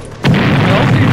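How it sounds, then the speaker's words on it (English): A loud explosion in the video game Halo CE bursts in suddenly and holds as a dense, sustained roar, the game's action sound filling the brief moment. "Explosions."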